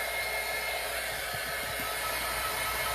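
A small hair dryer blows steadily with a constant, close airy whir and hiss, unchanging throughout.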